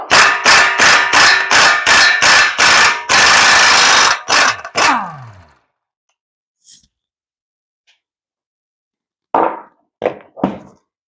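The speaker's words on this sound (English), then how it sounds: "we're going to start off by taking this axle nut off" The axle nut on a Dodge Avenger is taken off, with a loud, close run of rhythmic hammering bursts that ends abruptly, then near silence broken by a few sharp metallic knocks.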